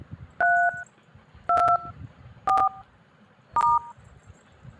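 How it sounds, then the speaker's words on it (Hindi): Four short two-tone DTMF beeps from a mobile phone keypad dialing a Jazz internet package code, evenly spaced about a second apart, clear and close over a low background rumble. "तो मैं कोड डायल कर देता हूँ"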